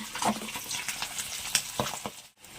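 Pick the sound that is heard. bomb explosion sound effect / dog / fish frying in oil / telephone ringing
fish frying in oil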